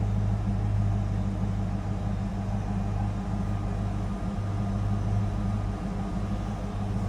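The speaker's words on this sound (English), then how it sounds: "Nice deep throaty exhaust note." Steady low idle of a 1994 Ford Mustang Cobra Indy Pace Car convertible, a deep, even exhaust rumble held close and constant with no revving or talk.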